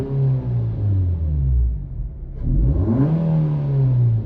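Nissan Versa Note with an HR16DE engine and modified exhaust, warmed up and revved twice in a row, each rev a low rumbling rise and fall, close and fairly quiet.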